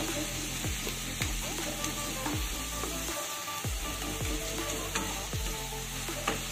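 Red amaranth greens with eggplant stir-fry in a pan, a continuous loud sizzle broken by repeated scraping strokes of a spatula against the pan.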